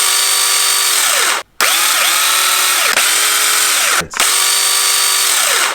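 A Ryobi 8 inch cordless chainsaw, the higher-power HP version on a double-stack battery, runs loud and close with a steady high whine, briefly cut off twice and revved back up.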